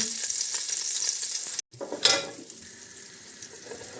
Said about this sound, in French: le beurre est en train de fondre